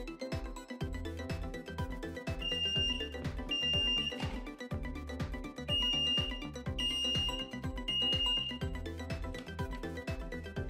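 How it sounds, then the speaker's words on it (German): Short high-pitched electronic beeps from a smoke detector alarm repeat in a steady pattern over a busy, loud background of music or clatter. "Ja, Rauchmelder funktioniert."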